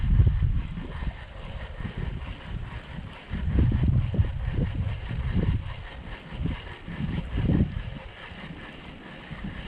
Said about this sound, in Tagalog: Grabe lakas po ng hangin